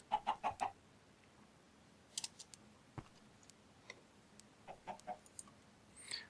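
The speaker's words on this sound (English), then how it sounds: "I can just hear a few chickens walking around" Soft clucking from chickens nearby, with scattered quiet taps and scratches as they move about, intermittent in an otherwise quiet space.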